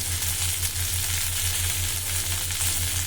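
Taro pieces fry with roasted coriander and cumin powder masala for a tangy tamarind stew, giving a steady, loud, close sizzle with a faint rhythmic low pulse running underneath throughout.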